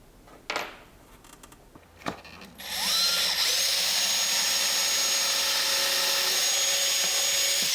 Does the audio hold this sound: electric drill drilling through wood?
yes